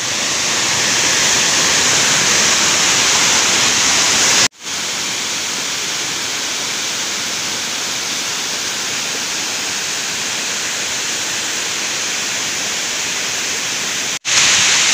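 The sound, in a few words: Chandranagar waterfall in Dapoli, Konkan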